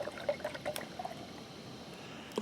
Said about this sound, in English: we'll take the leftover water from our meal, dump it in there